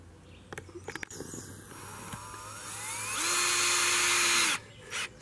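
A power drill drives a screw into a wooden stick for a cucumber trellis, with short bursts of whirring that build into a sustained whine lasting over a second before cutting off.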